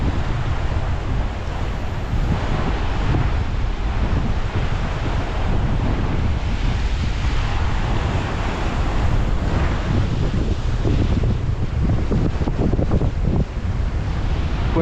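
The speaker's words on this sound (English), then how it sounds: "the battering from the wind that these things take" Strong wind batters the open coast of northeast Scotland, a loud continuous roar with crashing surf and heavy buffeting against the microphone throughout.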